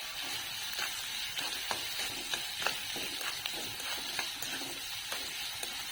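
Onion sautés gently in a pan for Malvani-style poha, a soft, steady sizzle with light repeated scrapes and clicks from stirring, fairly quiet and without speech.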